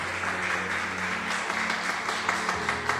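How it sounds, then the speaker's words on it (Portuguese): Worshippers at a Monday evening church service clap for Jesus in a dense, continuous burst of applause, mid-distance and moderately loud, with sustained keyboard tones running beneath it. "Vamos aplaudir Jesus bem forte."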